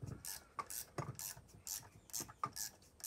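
A ratchet loosening a rusty 9/16 bolt on old disc brakes, giving repeated clicking ratchet strokes in uneven bursts, close and fairly quiet with no talking.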